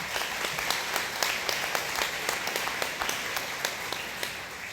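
A conference audience applauds in a sustained wash of clapping, moderately loud and even, with individual claps standing out in a loose rhythm throughout.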